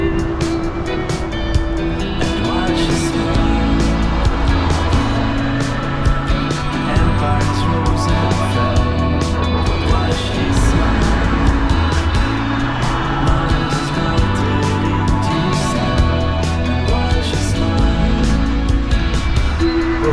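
A car drives along the road at the start of the Georgian Military Road near Vladikavkaz, a loud, steady engine and road rumble that carries on throughout with shifting tones.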